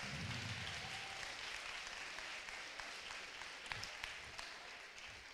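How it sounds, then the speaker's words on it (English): An audience at a school Polar Express concert applauds in a steady, dense wash of clapping heard from a distance and fairly quiet, with a faint voice near the start. "Give him a round of applause."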